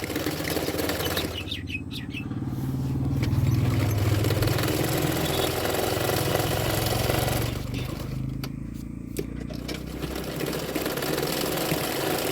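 Sewing machine stitching a blouse hem fold, a steady low motor hum running continuously at moderate level, with brief lighter clicking bursts near the start and again toward the end.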